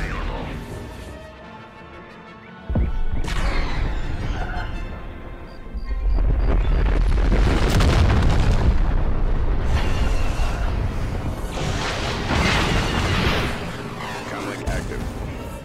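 Orbital bombardment in the Star Wars strategy game Thrawn's Revenge sends a sudden heavy crash followed by sustained rumbling, roaring explosions, loud and close, with brief radio-style unit voices speaking over them.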